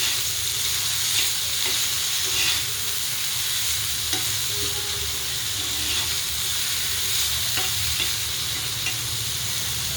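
Ridge gourd frying in a little oil hisses in a steady, close sizzle that lasts the whole stretch. Faint clinks of stirring rise over it now and then, and no one talks.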